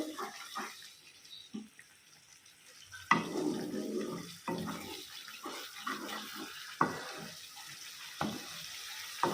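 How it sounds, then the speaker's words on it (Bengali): Water is poured into a pot of cooked-down spice paste for Bengali doi katla, a splashing, bubbling rush that starts partway through and runs on with a few sharper splashes. "তো এর মধ্যে আমি দিয়ে দেব জল"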